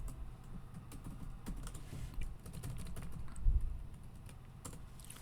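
HTML code being typed on a computer keyboard, with quiet, close, irregular key clicks in quick bursts and a slightly heavier press near the middle, no speech.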